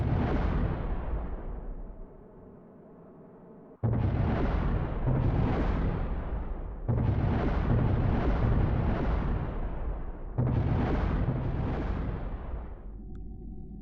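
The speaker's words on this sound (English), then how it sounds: "unfortunately we only get some immediate explosions and that is it" A spacecraft bursts apart in a series of heavy, rumbling explosions during atmospheric reentry in Kerbal Space Program (RP-1, Gemini mission), with four loud roaring blasts following one another and short lulls between them.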